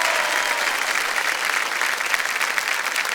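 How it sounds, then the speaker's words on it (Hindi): Studio audience applauding loudly on the KBC quiz show set for a contestant, a steady, dense burst of clapping that holds at full strength throughout. "जोरदार तालियां बज जाए इनके लिए"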